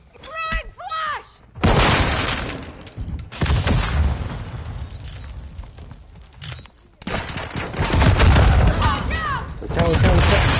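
In a video game, frag and flash grenades go off with heavy booms amid bursts of gunfire, loud and dense in two main waves, while a player talks over the action.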